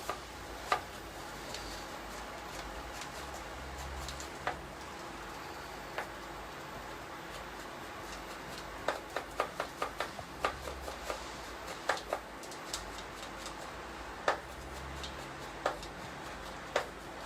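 An onion chopped finely with a knife on a board in a home kitchen, a run of faint, uneven clicks that bunch into quicker taps midway, quiet beneath a soft room hiss.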